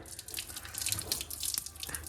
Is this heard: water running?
yes